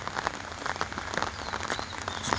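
Rain falls in a dense, steady patter on a surface, close and even throughout with no other sounds.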